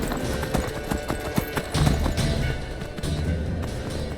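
Horse hooves clip-clop steadily in the video game Skyrim, a loud, close rhythmic trotting that carries on throughout, with heavier thuds partway through.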